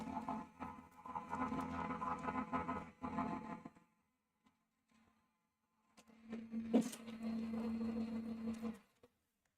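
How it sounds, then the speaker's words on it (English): A craft cutting machine feeds card through in two bursts, each a busy mechanical whirring buzz with a low motor hum. A short quiet gap separates them, and the second run has a sharper clunk partway through. The sound is close and moderate with no speech. "I can run this through my machine."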